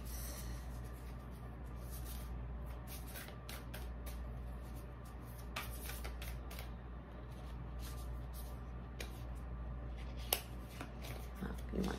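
Star seed oracle cards are shuffled at close range, producing a run of soft riffling flicks and slaps over a low steady hum, with a couple of sharper card snaps toward the end.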